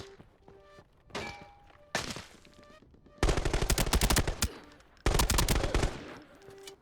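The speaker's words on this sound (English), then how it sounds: "Did not hear him at all until he shot at me." Gunfire in the shooter game Arena Breakout Infinite: a few scattered single shots and thumps, then two loud sustained bursts of automatic fire, heard alone without talk.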